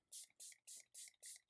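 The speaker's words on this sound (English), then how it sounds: "That's a really fine mist spray." Six quick hisses from a fine mist spray bottle misting acrylic inks, evenly spaced and close by, each a short bright burst of spray with brief pauses between.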